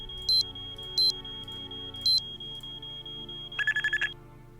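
A shrill electronic alarm in the Nancy Drew: Treasure in the Royal Tower video game, short repeated ringing bursts over a steady high tone, ending in a rapid warbling trill.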